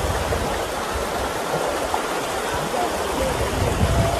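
Fast, cold river water rushing in a continuous broadband roar, close and loud with no break, like a strong current swirling around someone standing in it.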